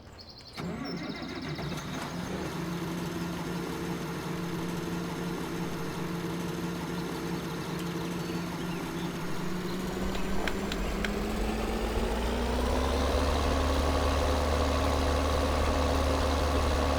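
A tractor engine in Farming Simulator 2013 starts and then idles with a steady diesel drone, rising to a louder, deeper rumble toward the end, with no voices over it.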